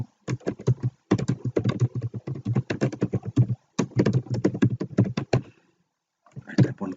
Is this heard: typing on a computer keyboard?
yes